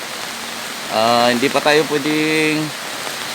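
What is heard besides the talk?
heavy rain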